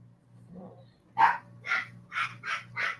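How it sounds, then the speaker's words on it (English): Dogs barking indoors, five or six sharp, fairly loud barks in an uneven quick rhythm after a faint whimper, heard over a low steady background hum. "Now the dogs are gonna start screaming again."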